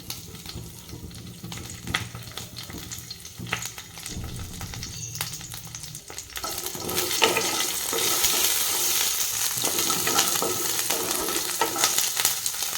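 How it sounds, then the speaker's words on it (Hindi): Mustard seeds, green chilies and curry leaves fry in hot oil, a quiet crackle that swells into a loud, steady sizzle partway through and continues without pause. "तेल गरम हो आसले एबे आम देदेबा सोरिष फुटण कंचा लंका ये रहा भूसंग पत्र"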